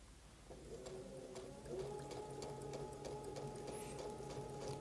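A sewing machine stitching quilt pieces together, a quiet steady whirring motor with rapid regular needle ticks running continuously, with no one talking.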